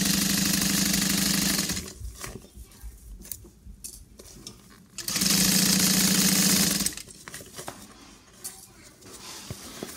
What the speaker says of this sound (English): And then we'll stitch around.